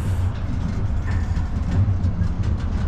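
Norfolk Southern freight train moves along the rails, a loud low rumble with faint rhythmic clatter of wheels, steady and close.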